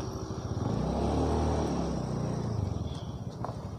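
A motorcycle engine idling at a roadside parking spot, a steady low rumbling putter with slight pulsing, fairly close and moderate in level, heard alone without speech.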